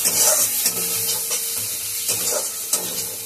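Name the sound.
spice paste being fried and stirred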